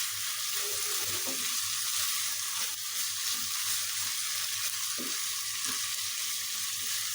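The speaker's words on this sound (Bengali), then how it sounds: "চিকেনটাও ভাজা হয়ে যাবে।" Chicken fries in a pan for fried rice, giving a soft continuous sizzle with a few scraping stirs, quiet and close, without voices.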